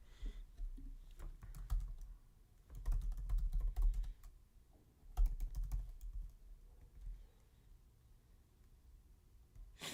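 Computer keyboard typing in irregular bursts of clicks and keystrokes, close and moderately quiet, with pauses between flurries and no talking.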